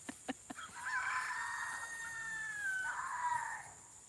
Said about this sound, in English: Our roosters are crowing.